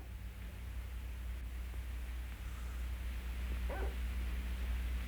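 A dog shut in a car trunk lets out a single short bark, fairly faint, against a steady low hum and hiss.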